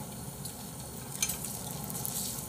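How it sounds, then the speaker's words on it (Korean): Meat fries in a hot pan, giving a steady, close sizzle with scattered sharp crackles and pops as the oil spatters. "기름이 푹 튀기네"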